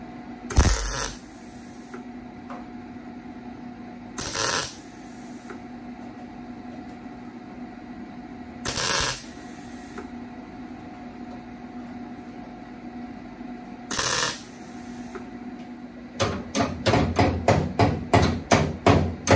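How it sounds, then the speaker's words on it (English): Tack welding a metal strip along the edge of a rusted panel during rust repair, with four short crackling bursts spaced a few seconds apart over a steady hum, then a quick run of rapid sharp pulses at the end. "I'm gonna tack weld this strip in along the edge."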